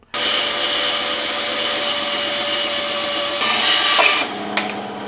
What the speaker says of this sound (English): Thank goodness I have this here bandsaw to help me out.